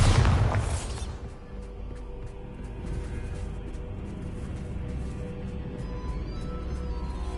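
A Bombarda spell detonates in Hogwarts Legacy with a loud, close, deep boom at the start, then a rumbling tail and a low, steady game ambience with small ticking sounds.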